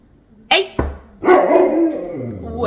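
A dog barks in a home, two sharp barks followed by a longer whining yelp, loud and close, with people talking around it.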